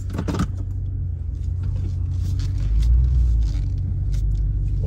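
A 2017 RAM 2500 Big Horn HD pickup with a Hemi engine rolls along on a short drive, its deep steady engine and road rumble filling the cab, swelling slightly midway, with a brief jangle of keys near the start.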